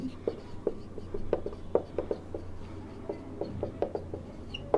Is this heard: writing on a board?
yes